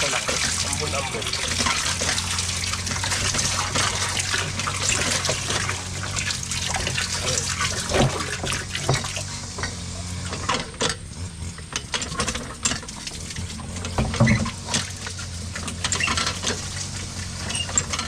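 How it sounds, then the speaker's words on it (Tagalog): Light drizzle falls beside a river, a steady broadband hiss of patter and trickling water throughout, with some faint background activity. "Saka di naman po ganun kalakas yung ulan. Sakto lang, ambon-ambon."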